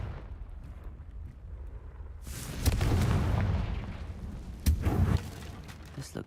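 A Confringo blast spell fired in Hogwarts Legacy erupts as a loud, broadband explosive boom after a quieter ambient stretch, swelling and rumbling for a couple of seconds, then a second sharp burst near the end.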